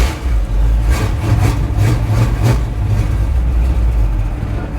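A 1977 Chevy Monte Carlo V8 engine with a carburetor needing adjustment fires up and runs, a loud, close, rumbling idle with a few pulsing surges throughout.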